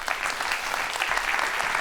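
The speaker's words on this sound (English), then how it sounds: "Give him a big round of applause." Steady applause from an audience after a talk on presence, immersive storytelling and experiential design, a dense even patter of many hands clapping close by with no pauses.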